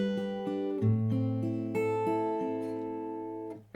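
Fingerstyle acoustic guitar plays a cascading arpeggio, notes rolling downward twice in a row over a low bass note, close, clear and alone, ending abruptly.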